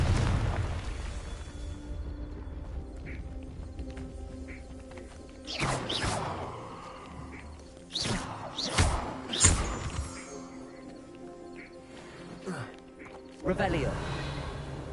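Confringo fire spells blasting in Hogwarts Legacy, a few sharp explosive bursts with crackling tails standing out over a steady background hum, a voice talking in between.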